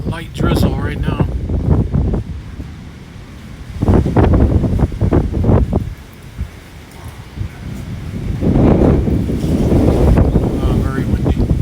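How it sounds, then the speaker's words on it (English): Strong storm wind roars and buffets the microphone in heavy, continuous gusts during light drizzle in Porac, Pampanga, with a voice speaking in bursts over the rushing noise. "but very, very windy."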